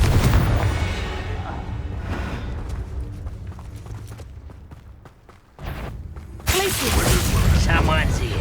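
Confringo blasting spell explosions in Hogwarts Legacy, booming fiery bursts with rumbling debris, a sharp loud blast near the end, amid game sounds and voices.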